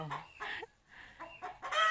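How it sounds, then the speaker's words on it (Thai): A chicken at a strawberry farm clucks in several quick, loud bursts separated by brief pauses, fairly close and with no talking over it. "เสียงดังมากไก่ของเรา"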